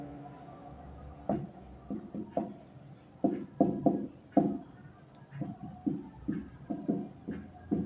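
Chalk or pen strokes writing out a math equation for a class 10 lesson, a series of short scratchy taps and scrapes in uneven bursts, fairly close and moderately quiet.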